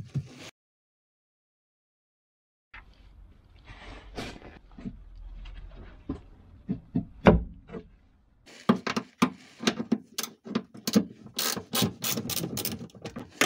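Ratchet and wrench work on a bar under a Volvo 740, sounding as quick clicking ratchet strokes and metallic knocks at close range, starting after a silent gap and building to a dense run of sharp clicks near the end.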